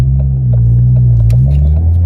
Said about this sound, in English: As you can hear, we've got the exhaust on as well.